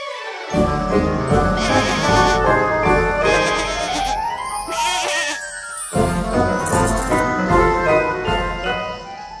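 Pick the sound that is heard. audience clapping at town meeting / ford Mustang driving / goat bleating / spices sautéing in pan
goat bleating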